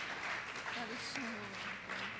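An audience at a sports equipment managers' awards ceremony claps in a continuous, moderate patter while a voice talks over it.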